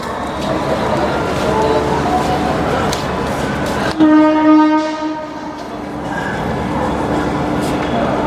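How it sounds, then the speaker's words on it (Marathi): A train rolls into a station platform with a steady heavy rumble, then a loud, sustained horn blast sounds up close midway before fading back into the rolling noise. "आता ट्रेन येते हे बघा"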